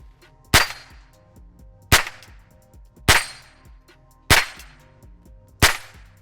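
Five rifle shots ring out on a range, evenly spaced about a second apart, each a sharp, loud crack with a short ringing tail, and no talk between them.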